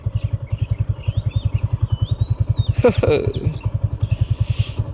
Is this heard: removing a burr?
no